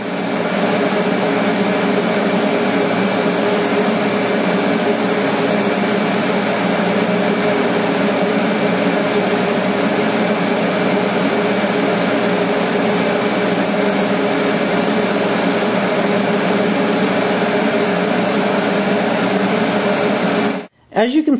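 Pulsed TIG welding with filler rod on a Longevity Tigweld 200DX makes a steady, close electrical buzz that holds level for about twenty seconds and then cuts off abruptly.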